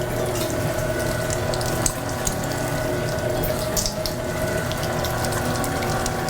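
Meat grinder with a 3/8-inch or 10 mm plate grinding deer meat and pork butt, a continuous close mechanical whir and rattle of gears with no talking.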